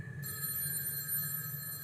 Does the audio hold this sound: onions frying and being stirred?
no